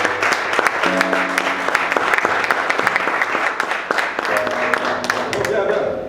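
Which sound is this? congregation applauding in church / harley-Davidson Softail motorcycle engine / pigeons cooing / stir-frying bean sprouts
congregation applauding in church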